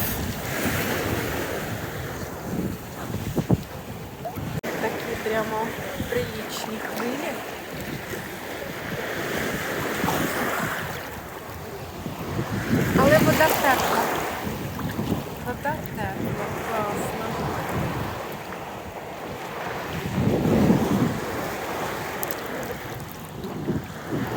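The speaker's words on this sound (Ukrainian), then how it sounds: "Тепла водичка, але з хвильками." Small waves lap at a Black Sea beach in Odesa, a continuous moderate wash with periodic swells and wind buffeting the microphone, no clear speech.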